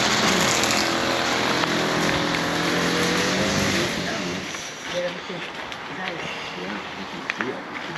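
A parked car engine idling and revving with a steady mechanical drone, then settling lower as outdoor noise and wind take over on a roadside in Puerto Rico.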